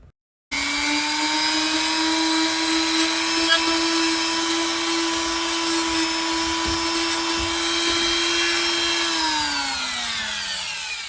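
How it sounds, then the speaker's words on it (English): A Dremel rotary tool carves around a crack in the dash of a 1973 GMC motorhome, giving a steady, close, high-pitched whine that holds for several seconds and then winds down at the end, with no talking. "I went in with my Dremel and just tried to carve out some of the area around the crack here"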